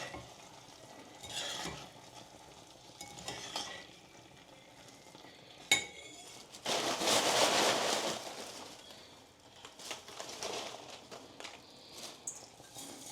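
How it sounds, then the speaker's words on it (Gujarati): Sev being stirred into a tomato curry in a pan, with soft scraping and sizzling that swells into a louder burst midway, then settles into quieter intermittent stirring. "તો આપણે હવે આમાં સેવ નાખી દઈએ. તો ધીરે ધીરે થોડી મિક્સ કરતા જાય."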